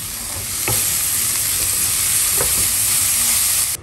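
Masala with chopped tomatoes frying in a pan, a loud, even, close sizzle with a couple of brief stirring scrapes, running steadily before cutting off abruptly at the end, no speech.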